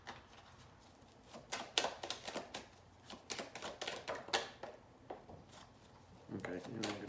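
Tarot cards are shuffled in uneven bursts of soft slaps and riffles, close and quiet, with short pauses between handfuls.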